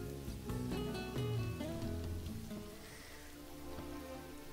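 Rain falling in the video game Final Fantasy XV, a steady soft patter that runs beneath game music throughout.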